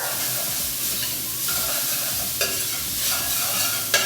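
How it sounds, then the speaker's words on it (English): Garlic and ginger frying for a Punjabi chana masala keep up a steady, loud sizzle while a spoon stirs the pan, with occasional sharp scrapes and knocks against the metal, heard close with no voices. "Let's give it a stir."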